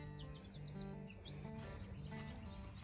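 Small chicks chirp in quick, high peeps, repeating irregularly over a constant low background hum.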